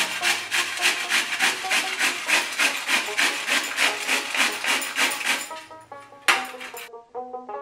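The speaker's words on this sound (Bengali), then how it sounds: "কি সুন্দর ফুলকপিগুলো আমার কদ্দুকস হয়ে যাচ্ছে" Washed, cut cauliflower being grated by hand, giving a steady rhythmic rasping scrape, stroke after stroke, close and fairly loud, before slowing into a few scattered scrapes and knocks.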